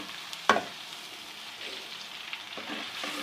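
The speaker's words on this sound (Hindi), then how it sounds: "ये देखें अच्छे से बबल्स आ गए, फ्राई हो गया अच्छा सा" Masala frying in hot oil for Lahori-style chicken chole, a steady soft sizzle and bubbling with a sharp clack of a utensil near the start, close and alone without talk.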